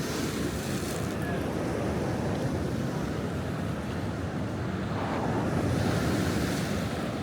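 Ocean surf rolling onto a beach just after sunset on a summer evening as the tide comes in, a continuous broad wash of breaking waves with wind buffeting the microphone throughout.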